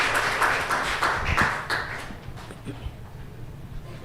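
Audience clapping hands at a Christian gathering, a burst of scattered applause over the first two seconds that thins out and fades, with faint background murmur.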